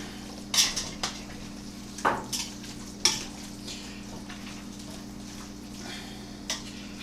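A spoon clinks and scrapes against a metal pot as pulled pork is stirred over a kerosene stove, a few sharp knocks spaced apart over a steady low hiss from the stove.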